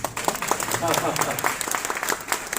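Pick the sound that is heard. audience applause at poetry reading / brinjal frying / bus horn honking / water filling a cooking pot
audience applause at poetry reading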